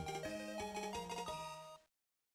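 A phone rings indoors with a melodic ringtone of stepped electronic notes playing in a quick rhythmic phrase for almost two seconds before cutting off abruptly.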